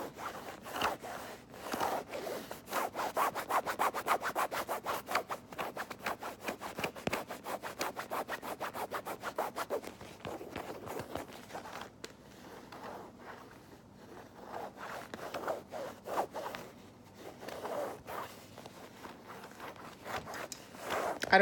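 Fingers tapping and scratching on a makeup case close to a basic mic, quiet rapid clicky taps and rubbing textures in busy bursts, no talking.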